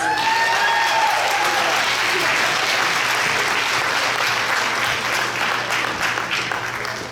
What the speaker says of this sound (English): Please give this group of students a round of applause.